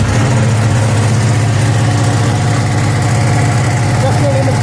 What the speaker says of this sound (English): And no doubt it'll have that usual lazy Ducati start where you think, is it going to start?